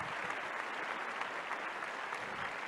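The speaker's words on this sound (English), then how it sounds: "let's give them a big round of applause" Studio audience at a Dancing with the Stars ballroom show breaks into sustained applause, a dense, steady wash of clapping and cheering that holds evenly throughout without a break.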